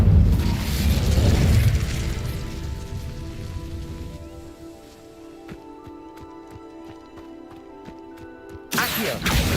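Incendio fire spell cast in the Hogwarts Legacy video game, a loud rushing blast of flame that roars for several seconds, then fades into a crackling, sparkly tail with a fresh burst near the end.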